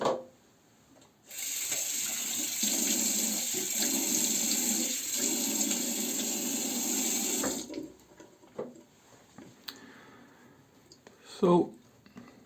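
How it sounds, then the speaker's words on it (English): A bathroom tap runs steadily for about six seconds while a man wets his face during a shave, then shuts off, followed by faint drips, splashes and handling noises nearby. "So I'm going to wet my face and continue with the shave."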